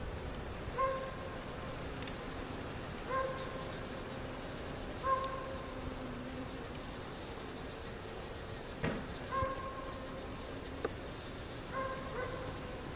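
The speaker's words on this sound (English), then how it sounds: "we have about 6 frames of bees" Bees on roughly six frames in an opened beehive hum in a faint, steady buzz, while a higher whining tone repeats every couple of seconds and a few sharp clicks interrupt.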